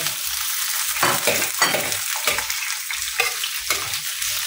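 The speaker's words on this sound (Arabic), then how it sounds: "بعد ما حمص الثوم شوي بنحط له فلفله الاحمر والاخضر" Garlic frying in a pan as red and green peppers go in, a continuous crisp sizzle punctuated by a series of rhythmic scraping stirs at roughly half-second intervals.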